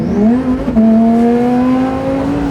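A Lamborghini HTO by M-tec Autocars accelerating in the Infinite Drive racing game: a loud, close engine note that rises in pitch, dips briefly at a gear change, then climbs steadily again.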